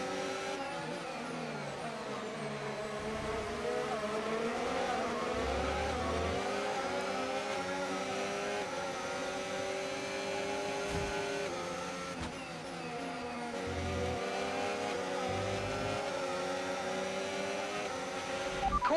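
A Formula 1 car engine in the F1 25 racing game during the Imola Grand Prix, running too hot, drones steadily at high pitch for the whole stretch, with shifting revs and brief dips, loud and without speech.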